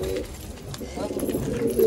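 A flying pigeon, a pet bird being fed grain, gives soft low coos close by, with someone talking over them.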